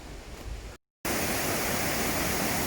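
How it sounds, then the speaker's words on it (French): The Cascade du Dard waterfall near Chamonix roaring as a loud, steady broadband rush of falling water, close by, broken once by a short total dropout before resuming at full strength; nobody speaks. "Alors on approche de la cascade du Dard"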